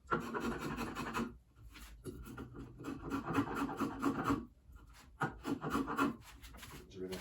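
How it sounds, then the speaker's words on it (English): The feet of a wooden ladderback chair leg are chamfered by hand, giving repeated rough rasping strokes in a steady back-and-forth rhythm, close and moderately loud. "Chamfer the feet."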